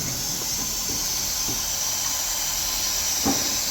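Air hisses steadily from a cracked Nissan K21 cylinder head held at 40 psi on a pressure tester, a constant bright hiss with a few faint knocks and taps from handling underneath.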